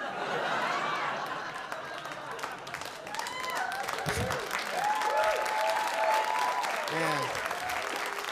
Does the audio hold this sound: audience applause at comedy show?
yes